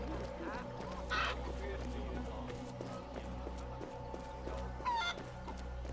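Chicken clucking in the video game Assassin's Creed Liberation, two short bright bursts of clucks over a constant low game ambience, with faint voice-like sounds in the background.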